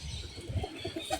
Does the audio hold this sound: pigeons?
yes